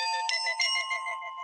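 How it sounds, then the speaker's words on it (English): A phone notification chime plays as a clear, bright melodic tone with a couple of quick accented notes, ringing out alone in a quiet room. "sorry, that's my phone notification"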